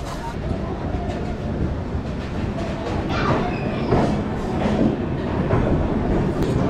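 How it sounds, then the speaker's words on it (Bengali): The Patna-Howrah Jan Shatabdi Express pulls out of Asansol Junction with a dense, continuous rumble and rhythmic wheel clatter that builds slightly, with faint voices underneath. "ট্রেন আমাদের ছেড়ে দিয়েছে আসানসোল জংশন থেকে।"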